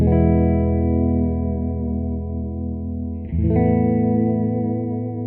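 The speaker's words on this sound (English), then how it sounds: "You get that classic vibrato kind of thing that only Bigsby does." A sustained chord on an Epiphone Riviera P93 Custom electric guitar rings out, then wavers in pitch as its Bigsby vibrato arm is pushed, giving a warbling, slightly shimmering tone.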